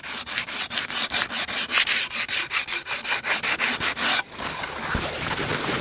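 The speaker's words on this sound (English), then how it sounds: "we can then come in with the sandpaper and just take any of the rest of it off" Sandpaper rubs varnish off a wooden axe handle in about twenty quick, even back-and-forth strokes, close and loud, then stops abruptly, leaving a softer steady hiss.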